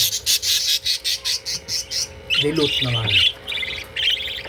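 Parakeets calling in a breeding cage, rapid repeated chirps and squawks close by, with someone talking briefly over the birds partway through.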